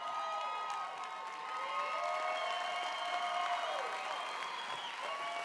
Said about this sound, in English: How about a round of applause for him and all the servicemen and women who fight to protect our great nation.